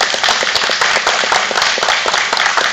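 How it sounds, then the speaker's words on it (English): Dense, loud applause and clapping from a bluegrass concert audience welcoming young musician Cole Braswell, steady broadband clatter throughout with no talking. "Give him a big hand before you get started"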